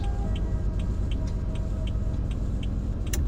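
Tesla Cybertruck in the Roblox game Greenville, a steady low engine rumble with road noise running continuously at moderate loudness, with faint ticking clicks on top and no voices.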